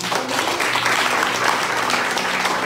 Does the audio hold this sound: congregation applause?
yes